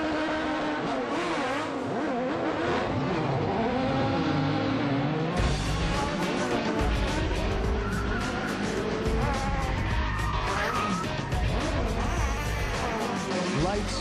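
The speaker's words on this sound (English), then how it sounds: "extreme stunt show is a live, high-octane look at how vehicle action stunts are created for the movies" Stunt cars rev and race at a live vehicle-action stunt show at Disney-MGM Studios, with engine roars and buzzing revs running steadily throughout, loud and continuous, mixed with crowd and announcer noise.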